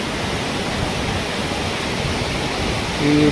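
Strong rushing water at Kalu Waterfall during a monsoon trek, a steady loud broadband roar filling the whole moment, swelling slightly at the end.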